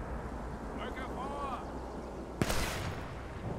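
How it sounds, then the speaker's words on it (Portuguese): A gunshot from the Sniper Elite 4 video game fires once, sharp and brief, against a steady ambient game soundscape with a voice talking faintly. "Tem um tiro ali de cima."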